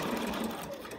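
A domestic sewing machine fitted with a walking foot runs in a steady, continuous mechanical whir, close and fairly loud, holding an even pace for about a second with no voices.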